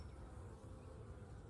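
Honey bees buzz around an opened hive during a beekeeping inspection, a dense, continuous close-up drone with no talking.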